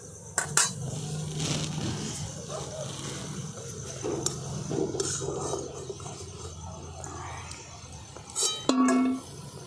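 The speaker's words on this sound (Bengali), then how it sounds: "আওয়াজটা দেখেছেন কতটা মুচমুচে হবে।" Crunchy fried khaja pastries are lifted out of a pan of hot oil, giving scattered clinks and light scraping against metal, with a few sharper knocks near the end over a low background.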